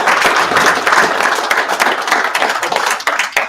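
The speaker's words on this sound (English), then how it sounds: "I would like to ask for a round of applause, please, for our sponsors" Loud, dense applause from an audience at the World Billiards Matchplay Championship final in Ireland, with steady clapping filling the room for several seconds, lightly mixed with crowd murmur.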